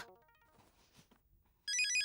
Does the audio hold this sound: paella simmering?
no